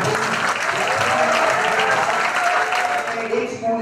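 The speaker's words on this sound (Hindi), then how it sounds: "तो उसके लिए एक बार ताली बजती है" A school festival audience claps loudly for performers at a film festival event, dense sustained applause filling the whole stretch, with crowd voices mixed underneath.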